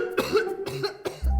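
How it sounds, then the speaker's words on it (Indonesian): A man coughs several times in quick succession, close and fairly loud, each cough a short harsh burst with no speech. "Bapak batuk ya?"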